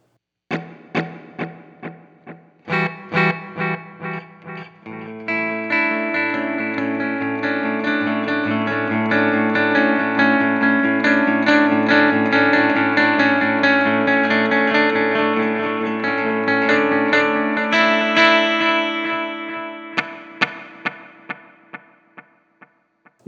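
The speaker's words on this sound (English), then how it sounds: "you have a reverb that does have like a delay with some kind of reverb in it." Electric guitar played through a Boss ME-90 multi-effects unit set to a reverb with delay: a few plucked notes, then sustained strummed chords with long echoing repeats and a washy tail, ending in softer picked notes.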